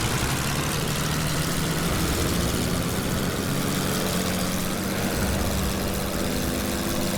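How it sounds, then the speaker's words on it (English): World War I era aircraft engines in the flight game Wings Over Flanders give a continuous, dense propeller drone and rumble that stays steady and loud throughout, with no voices. "I hear engines."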